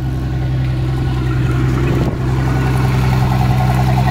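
A Mercruiser 4.3 V6 marine engine, a Chevrolet V6 in a Bayliner boat, runs loud and close at a steady idle with an even low rumble throughout.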